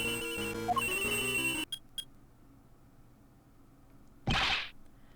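A cell phone rings in the video game Ace Attorney Investigations 2: Prosecutor's Gambit, a melodic electronic ringtone over game music that cuts off, followed by a couple of faint blips and then a short bright whooshing burst.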